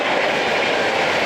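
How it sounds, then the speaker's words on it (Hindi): The Kota Patna Express passing at a rail crossing, a loud continuous close rumble of rolling wagons with faint clickety-clack, steady throughout without talk. "उधर से कोटा पटना एक्सप्रेस निकल रही है"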